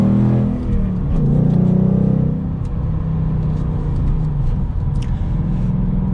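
A 2021 Ford Mustang GT Premium coupe with a manual gearbox and V8 engine, heard while driving as a deep, steady rumbling drone that rises briefly before settling into an even cruise.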